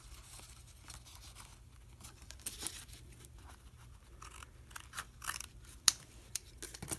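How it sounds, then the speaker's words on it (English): Scissors cut through napkin paper up close in quiet room, giving a few soft, crisp snips and rustles with small sharp clicks toward the end, no talking. "And just take our scissors. Just cut that off"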